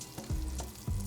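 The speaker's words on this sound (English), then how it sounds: "Oh, there's the sizzle. That's what you wanna hear." Butter sizzles in a hot enameled cast iron pan, a steady close crackling hiss with a couple of brief louder swells and no talking.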